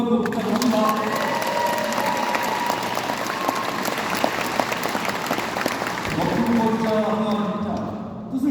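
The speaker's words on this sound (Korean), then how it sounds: "여러분 그렇게 믿으시면 큰 박수 한번 부탁합니다" Residents at a town-hall meeting with a provincial governor break into loud, sustained applause, a broad crowd clapping with some cheering, while a voice and background talk carry on over it.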